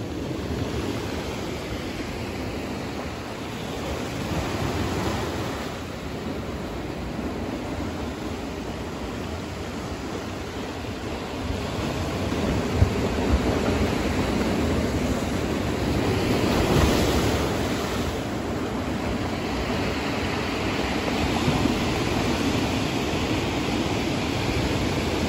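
Waves break on a rocky beach in a continuous, loud surf wash with gentle surges, mixed with wind noise on the microphone and no talking.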